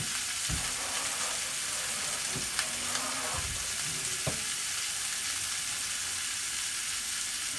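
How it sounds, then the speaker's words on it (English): Pasta is stirred in a pot on the stove, a spoon knocking a few times against the pot over a steady sizzling, bubbling background, with no talking. "I stir my pasta because I don't add oil to my pasta"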